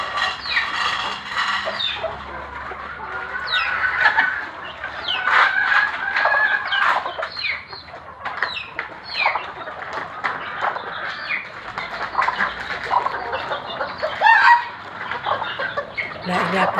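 Chickens kept in a small backyard coop cluck and squawk close by, a busy overlapping chorus of short calls with the odd louder cackle, steady throughout.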